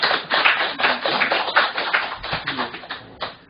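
Applause from a lecture audience, a steady dense patter of many hands clapping for about three seconds, moderately loud, fading slightly toward the end.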